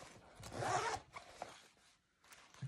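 Zipper on a multi-pocket bag pulled open, a faint scratchy zip lasting under a second followed by a couple of shorter tugs and small rustles, quiet and close with no speech.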